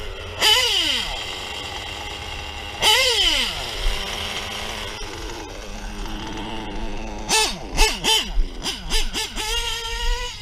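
A modded engine being brought to idle gives two long swooping revs, then a quick run of sharp throttle blips close by, with rising and falling pitch over a low rumble.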